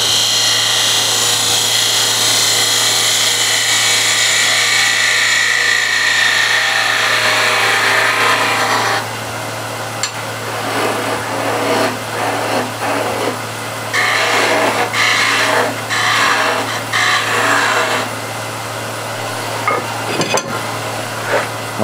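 A wooden coffee or tea container spins on a lathe while a tool cuts a taper, giving a loud continuous rushing scrape that drops after several seconds into intermittent chattering cuts over a steady motor hum.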